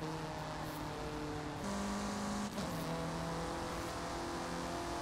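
An engine roars at high revs in the racing video game Forza Horizon 5, the pitch holding, shifting up at gear changes and climbing again, loud and continuous without speech.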